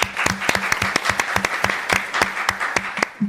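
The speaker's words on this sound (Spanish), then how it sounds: "Le pedimos un muy fuerte aplauso a todos los que están acá presentes para Fernando Storchi, CEO, fundador de Mega" Clapping for a speaker at an entrepreneurship event, heard as a small group of sharp, distinct hand claps in an uneven rhythm, close and fairly loud, with no voices over it.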